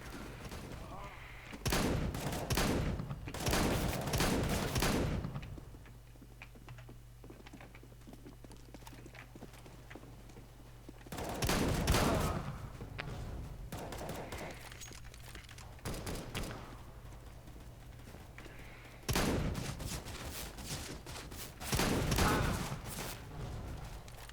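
Shotgun-style gunfire bursts in Counter-Strike: Global Offensive, arriving in loud clusters of rapid shots separated by quieter stretches of game ambience, with someone talking over parts of it.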